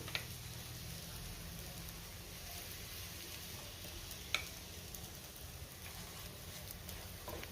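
An oiled aloo paratha cooks on a pan after flipping, giving a faint, even sizzle throughout with one sharp tap of a utensil midway.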